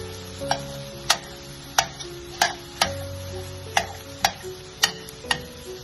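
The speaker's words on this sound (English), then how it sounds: "Let's mix the tomatoes. Slightly smash the tomatoes." Cooked tomatoes being stirred and mashed in a pan for an egg roast, with a spoon tapping the pan in sharp, fairly regular clicks about every half second over a low simmer.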